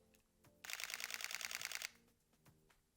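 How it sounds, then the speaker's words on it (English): A Sony A7 III fires a rapid burst of shutter clicks at 10 frames per second continuously for about a second, crisp and close, with a few isolated clicks before and after. "Another key feature of the A7 III is its 10 frames per second shutter speed."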